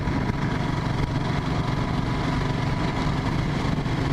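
A motorcycle exhaust fitted with a VW Beetle muffler gives a steady, low, muffled rumble, heard close and constant with no noticeable revving or change.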